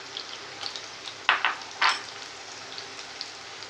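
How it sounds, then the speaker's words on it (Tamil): Onions frying in a pan with ginger garlic paste, a soft steady sizzle with a couple of louder stirring scrapes in the middle, no voices. "வெங்காயம் நல்லா வேகட்டும். வெந்துக்கிட்டு இருக்கு வெங்காயம்."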